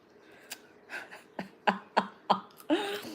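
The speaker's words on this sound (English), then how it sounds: "Did you hear me burp?" A series of short, abrupt throaty bursts, several in quick succession, close to the listener, ending in a longer gurgling burp-like sound.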